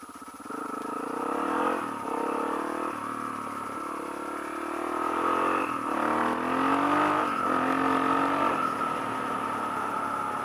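A Honda XR400R dirt bike engine revs repeatedly, rising and falling through several throttle blips over a steady idle, close and fairly loud, with no talk.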